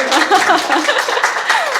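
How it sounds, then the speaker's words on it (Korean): Audience applause at a running seminar greets the speaker coming on stage: steady, dense clapping from a nearby crowd, continuous and fairly loud, with voices mixed in. "큰 박수로 환영해 주시기 바랍니다"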